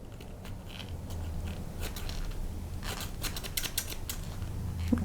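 Scissors snipping a wick for an African violet pot, a series of small crisp cuts and clicks, close and fairly quiet, with a few grouped snips toward the middle.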